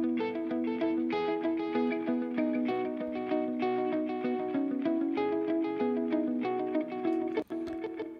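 Bright electric guitar plays a continuous picked pattern through a stereo delay, repeating echoes spreading out behind each note, sustained and steady throughout.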